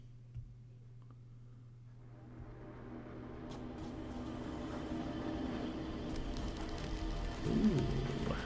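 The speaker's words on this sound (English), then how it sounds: "Is it implied that the rain is bloody there as well?" Rain falling in a Doom level, a steady soft hiss that builds gradually and stays even, with a low hum beneath it and a brief louder swell near the end.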